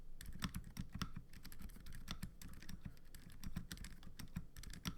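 Rapid, steady typing on a GamaKay LK75 mechanical keyboard fitted with Phoenix Silent switches gives soft, muted key clicks in a quick irregular rhythm, close and quiet, with no other sound.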